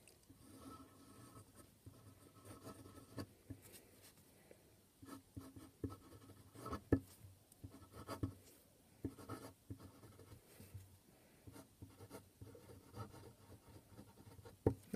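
A Sailor Professional Gear King of Pen fountain pen with a large medium nib scratches softly across paper in short downstrokes and side strokes, faint, close and alone.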